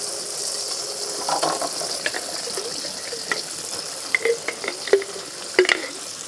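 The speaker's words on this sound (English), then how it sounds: "while we're waiting for that to fry up" Food with cumin frying in a pan gives a soft, steady sizzle, broken by a few sharper pops and clicks toward the end, with no talking.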